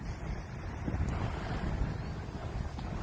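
Strong wind buffets the microphone at an RC plane flying field on a cold Sunday afternoon, a continuous low roaring rumble with gusty swells and no talking.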